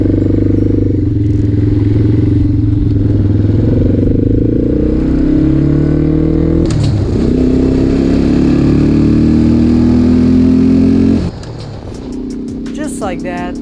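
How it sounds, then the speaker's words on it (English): ATV with an air-powered gear shifter, engine droning steadily as it drives, with a shift-like change in pitch midway and a sharp clunk near the end before a quieter idle. "Let's see how well it'll shift when driving the ATV"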